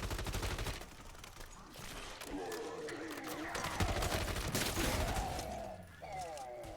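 Rapid gunfire from a firefight against a mangler in Modern Warfare Zombies, dense bursts mixed with other game noise and voice-like cries throughout.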